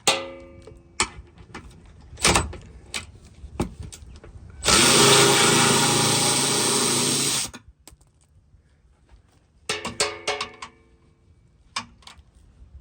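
Cordless Insider impact wrench removing bumper bolts on a Jeep: a loud, sustained buzzing rattle of about three seconds, set between short clicks and clanks of handling tools and parts.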